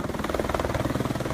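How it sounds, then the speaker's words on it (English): Steady, rapid thudding of helicopter rotor blades, close and loud, with a regular chopping pulse throughout, at an Everest camp after the April 2015 earthquake. "We've got 3 helicopters."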